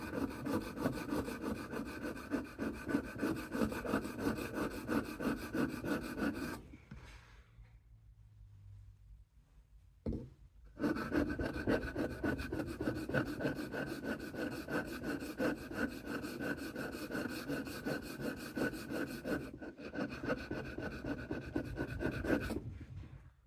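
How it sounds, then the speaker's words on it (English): The tip of a vintage Camillus Trailblazer knife is ground on a sharpening stone in rapid, rhythmic rasping strokes, close and steady, broken by a few seconds of pause before the scraping resumes. "See if I can grab this stone and grind"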